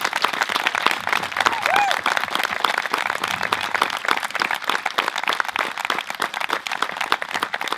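A theatre audience gives loud, dense applause to the troupe and contributors after an amateur stage show, with many hands clapping close and continuously and a faint voice now and then underneath.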